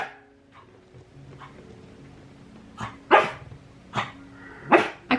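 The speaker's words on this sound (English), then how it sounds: "I call that cussing because he's like barking at his bowl." A dog barks at its food bowl in a home, with several sharp, fairly close barks spaced out after a quieter start and a soft growl or whimper in between.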